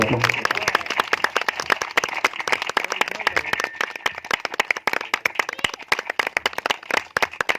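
An audience at a Christmas celebration in a church claps in sharp, fairly rhythmic strokes, many distinct claps sounding close and continuing steadily throughout.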